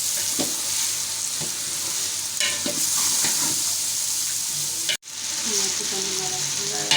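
About 3.5 kg of chicken frying in masala in a large pot for chicken pulao. A loud, close sizzle is broken by several scraping stirs and a brief sharp cut in the sound partway through, with no talking.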